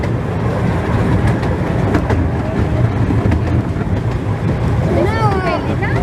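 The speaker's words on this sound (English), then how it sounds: "you've also got the little train running alongside it" Little tourist train of the Rudyard narrow-gauge railway running alongside a path, giving a steady rumbling, clattering roll that stays close and constant, with indistinct voices mixed in.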